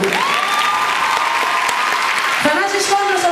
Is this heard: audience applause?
yes